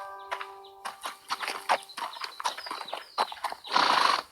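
Horse hooves clip-clop at a close, uneven walking pace on a ranch, with a short neigh or whinny near the end.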